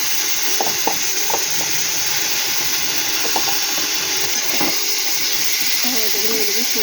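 Garlic paste hisses and sizzles in hot oil in a pan with potatoes, a steady bright frying noise with soft stirring scrapes and clinks, a voice speaking faintly underneath.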